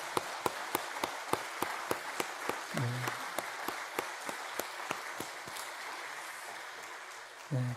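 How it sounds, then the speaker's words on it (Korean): A church congregation applauds to bless a son during a Sunday service, with a steady wash of many hands and an evenly timed rhythmic clap beating through it. "같이 한번 박수로 축복하겠습니다"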